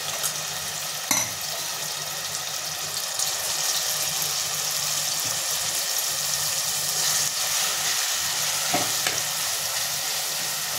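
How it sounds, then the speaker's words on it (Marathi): Grated pumpkin roasting in ghee in a hot pan for pumpkin halwa, a steady close sizzle and crackle with occasional stirring scrapes and knocks, continuous and fairly loud with no talking. "हे मी भोपळा जो किसलेला आहे ते टाकून मी त्यात छान भाजून घेणार आहे।"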